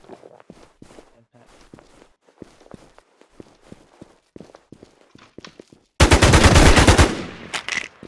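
Rapid automatic gunfire in an online shooter game, a loud sustained burst of close shots about a second long, preceded by soft footstep-like clicks and followed by a second, shorter loud burst.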